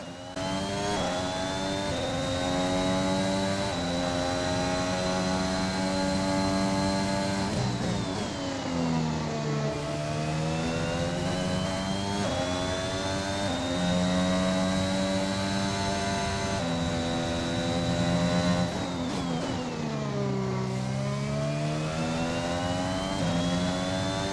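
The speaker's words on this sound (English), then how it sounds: "I really do like the sound of the engine." Formula 1 car engine in the F1 2021 video game, a loud high-pitched whine climbing through the revs and upshifting in repeated cycles, with dips where the car brakes and downshifts, running continuously with no talk.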